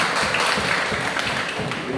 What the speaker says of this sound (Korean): 우리 함께 한번 감사의 박수합시다.